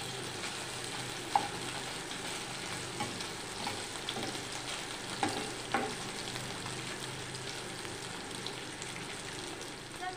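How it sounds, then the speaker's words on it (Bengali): Small fish fry lightly in oil in a pan, a gentle steady crackle and sizzle with a few faint pops, fairly quiet and without talk. "হালকা করে ভেজে আমি একটু লাল লাল হয়ে আসলে মাছটা তুলে নেব।"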